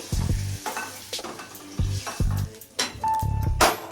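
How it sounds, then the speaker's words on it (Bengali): Large pieces of paneer fry in shallow oil, crackling and sizzling close up while a utensil scrapes and turns them in short, repeated bursts. "এইভাবে করে ফ্রাই করে তুলে নিচ্ছি বাটিতে।"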